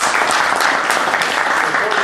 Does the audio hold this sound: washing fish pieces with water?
no